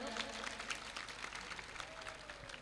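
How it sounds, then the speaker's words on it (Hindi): Audience applause at a devotional Shyam bhajan gathering, steady dense clapping throughout with a voice faintly over it. "एक बार राज के लिए जोरदार तालियां दोबारा बजा दो"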